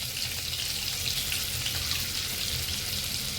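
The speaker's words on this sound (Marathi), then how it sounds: "चांगलं तेलावर परतून घ्यायचं" Cumin, cinnamon, cloves and bay leaf frying in hot oil in a pan, a dense, even sizzle that holds steady and close throughout, with no voices.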